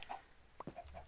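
Chicken in the Minecraft video game clucking a few short, faint times, with brief clucks spaced across a quiet moment and no talk over them.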